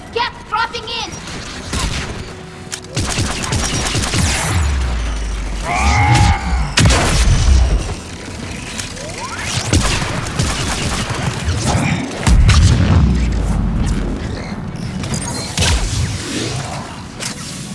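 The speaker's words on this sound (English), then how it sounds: "There! Anti-aircraft guns!" Anti-aircraft gunfire and explosions in the Mass Effect 3 battle on Rannoch, with loud booming blasts and rapid bursts of fire. Whooshing sweeps cross the dense, continuous noise of combat.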